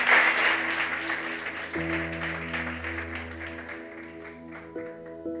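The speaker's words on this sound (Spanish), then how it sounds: "Dale un fuerte aplauso al Señor." A church congregation applauds, a dense wash of clapping that starts strong and gradually thins, while sustained organ or keyboard chords play underneath.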